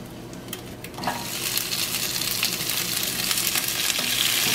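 Onion sizzling and frying in a pan with egg and tomato, starting a second in and holding as a steady, close, fairly loud crackle to the end.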